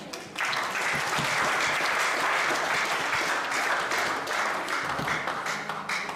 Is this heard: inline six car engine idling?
no